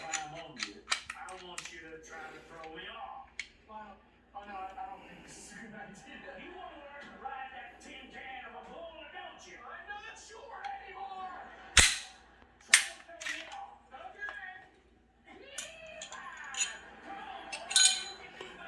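A Glock 19 pistol is taken apart and put back together by hand while blindfolded. Scattered metallic clicks, clinks and sharp snaps of parts sound close by, with talking heard quietly throughout.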